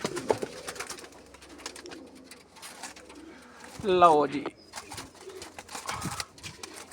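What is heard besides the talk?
high-flying pigeons cooing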